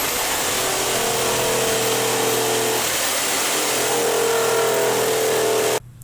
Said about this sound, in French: À la scie sauteuse, j'ai coupé en gras